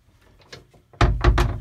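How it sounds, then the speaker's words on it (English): Companionway door to the head aboard a boat, opening with a few faint mechanical clicks followed by a louder wooden clunk and rattle, close by and with no speech. "This is the door in the companionway to the"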